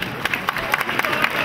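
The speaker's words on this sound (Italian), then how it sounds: "un applauso al cavallo" A crowd at the Festa di San Giovanni Vincenzo claps for a horse, a short spell of scattered, uneven applause in an open outdoor space.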